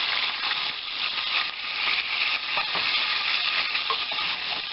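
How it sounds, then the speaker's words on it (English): Ground lamb frying for shepherd's pie gives off a constant crackling sizzle in the pan, broken by occasional soft scrapes as it is stirred and crumbled, steady and close with no voices. "I don't know if you can hear me over the sizzling"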